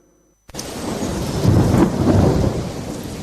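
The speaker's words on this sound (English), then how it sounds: "It was raining" Heavy rain and a deep rolling thunderclap burst in after a short silence in a radio advert, the downpour steady and loud as the thunder swells and rumbles through it.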